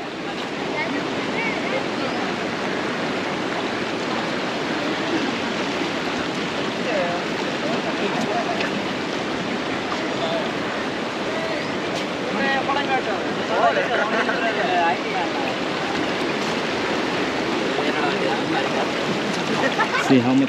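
Water from Thiruparappu waterfall and the river below rushes in a steady, broadband roar, with faint voices of people nearby mixed in.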